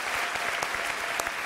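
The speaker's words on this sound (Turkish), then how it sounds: "Onu da bir alkışlayalım." A Turkish TV talk show studio audience applauding steadily, dense clapping close by with no voices over it.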